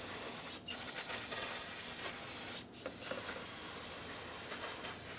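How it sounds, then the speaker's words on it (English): Close and loud, an aerosol can of brake cleaner hisses continuously onto the master cylinder area of a 1992-1996 Ford F-150, stopping for two short breaks. "come back with some brake clean, clean up the area here"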